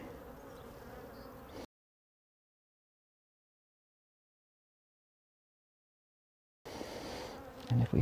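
Honey bees buzz around an opened hive during a full inspection, a close, steady hum that drops to complete silence for several seconds and then returns with a couple of louder bumps.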